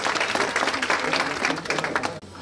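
Audience applause at a beauty pageant's question round, dense continuous clapping from a crowd, moderately loud and even, cutting off briefly near the end.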